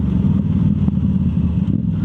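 A Yamaha YZF R7 motorcycle with an untuned Yoshimura full exhaust gives a steady, loud, deep engine rumble close by, holding an even note with no voices.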